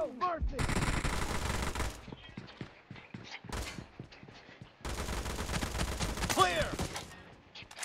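Bursts of automatic machine gun fire in the BGMI battle royale game, two long dense volleys separated by a stretch of scattered single shots, loud and close, with mixed game effects and no talk.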